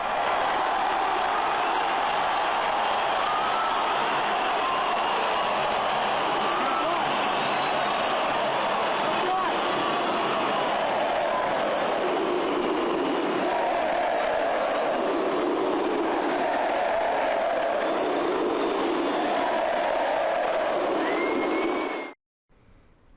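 A Palmeiras stadium crowd roars in a sustained, dense wash of cheering as Dudu is called on to enter the match, swelling and surging for about twenty seconds before cutting off abruptly.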